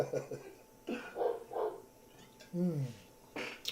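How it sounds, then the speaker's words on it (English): A dog barks several times in short bursts, somewhat distant and muffled, with a voice talking over it. "Can you guys hear my doggy outside just barking his head off?"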